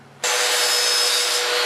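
Power saw cutting miters on wooden pieces for an iPad car case, starting abruptly after a quiet moment and holding a loud, steady whining cut to the end.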